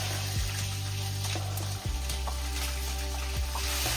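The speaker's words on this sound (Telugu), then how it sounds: "చూసారు సౌండ్? అది ఆయిల్ అన్నది స్ప్లిట్ అయితే ఉంటది పైకి." Green chillies drop into hot oil in a home kitchen pan while cooking chicken curry, giving a loud, steady crackling sizzle with sharp spluttering pops throughout, close up and with no talk.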